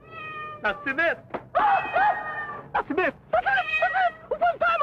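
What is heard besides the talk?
cat meowing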